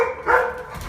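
A dog at a door during a package delivery gives one short, close bark, loud and alone with no talking.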